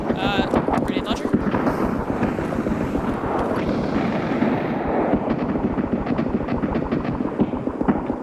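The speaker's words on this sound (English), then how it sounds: "Grenade launcher?" Grenade launcher blasts and gunfire rumble through an Escape From Tarkov raid, distant and booming under steady wind-like noise, with a person talking over the fighting.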